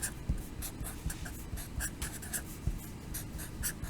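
Pen or pencil writing an algebra equation by hand on paper, close and quiet, with short scratchy strokes and taps in an uneven rhythm and no talking.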